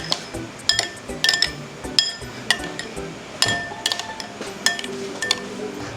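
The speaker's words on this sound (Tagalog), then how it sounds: "i-mix nyo yung yellow hanggat mawala yung bubbles" A whisk rattles against a bowl while egg yolks are mixed for leche flan. Sharp, irregular clinks and taps come close and clear over about six seconds, with no talk.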